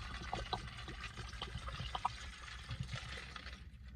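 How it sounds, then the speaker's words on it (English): Water is poured into a cup, making a faint, close, bubbling trickle that runs continuously for a few seconds against a quiet room. "So I'm going to pour my water in here"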